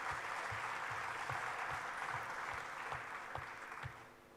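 A Hindu gathering's audience gives a round of applause, faint distant clapping spread across the room, steady for a few seconds before tapering off.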